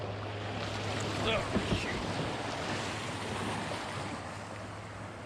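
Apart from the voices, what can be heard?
big waves hitting a small boat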